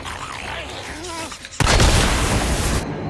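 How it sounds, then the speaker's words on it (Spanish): In the video game Days Gone, a heavy explosion bursts with a sudden loud boom and a roaring blast lasting over a second, following a stretch of talk. "Vaya, me ha pillado a mí la explosión"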